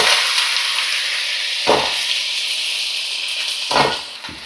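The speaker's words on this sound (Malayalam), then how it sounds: "ഇനി നമുക്ക് ഇതിനകത്തേക്ക് ചെറിയ ഉള്ളി ചേർത്ത് കൊടുക്കാം." Small onions sizzle in hot oil in a pan for chicken curry, a steady broadband frying hiss with a few brief stirring scrapes, close and alone without talk.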